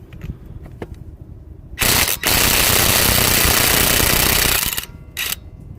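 A Ryobi cordless 1/2-inch impact wrench, 300 ft-lb class, running on its second setting to remove a car lug nut: loud rapid hammering bursts, one short and one sustained for about three seconds, then another brief burst, up close.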